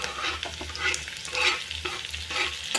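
Tomatoes, onions and turmeric frying in a pan, with a steady close sizzle broken by the scrapes and swishes of stirring, no voices.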